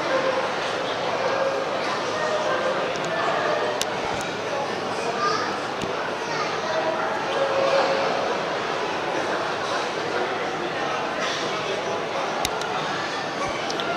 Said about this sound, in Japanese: なんか吠えてますね。